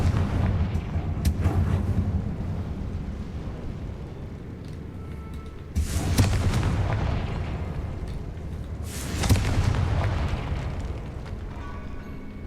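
The Confringo blasting spell goes off in Hogwarts Legacy. It makes three heavy booming explosions spaced several seconds apart, each a sharp burst rolling into a low rumble over a murky background.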